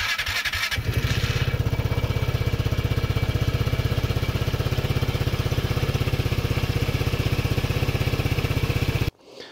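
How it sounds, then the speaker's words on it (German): Vespa GTS 250 ie scooter with a 244 cc single-cylinder four-stroke, four-valve engine starts and settles into a steady, close, pulsing idle, then cuts off abruptly. "Das ist ein Quasar, Einzylinder, Viertaktmotor mit vier Ventilen."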